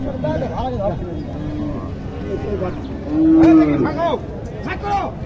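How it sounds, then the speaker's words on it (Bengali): A Sahiwal calf lets out a loud, drawn-out moo partway through, rising above steady background chatter from people talking nearby at a cattle market. "শাহিওয়াল বাছুরটি"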